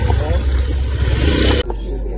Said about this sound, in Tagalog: Dami ng mga motor.